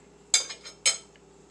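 A spoon knocks twice against a pot of lentil, beef and bacon soup, giving two sharp, close metallic clinks with a quiet pause between them and no speech.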